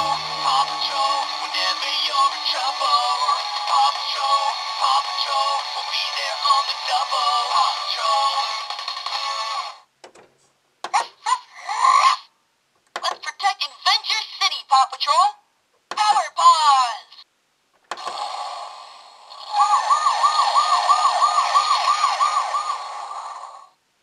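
Electronic siren and sound effects from a PAW Patrol Mighty Movie aircraft carrier HQ toy, a warbling wail followed by choppy bursts of short effects and recorded toy voices, then a second rising siren, close and tinny.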